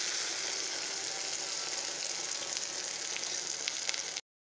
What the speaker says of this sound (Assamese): এইফালে ফ্ৰাই কৰি আছোঁ বেঙেনা আৰু আলু